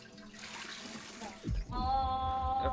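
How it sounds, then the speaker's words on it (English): Toilet flushing in the video game Scrap Mechanic: a rushing water surge that swells midway and gives way to a steady tonal hum, at moderate loudness. "You flush the toilet every time you get up."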